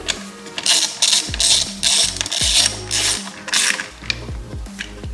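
A wrench torquing the brake rotor bracket bolts on a dirtbike fitted with an oversize 280mm rotor kit, giving a run of quick metallic ratchet clicks in short bursts, close and clear with no talking.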